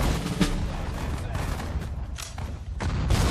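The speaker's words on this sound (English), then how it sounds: "Let's use regular grenades on those." Grenade blasts and battlefield gunfire in the World War II strategy game Sudden Strike 4 at Stalingrad, a dense continuous rumble of booms and shots with sharper bursts near the start and end, brief speech underneath.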